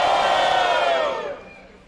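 A battle rap crowd at a Brazilian street rap battle cheers and shouts loudly in one dense roar that fades over the final half second.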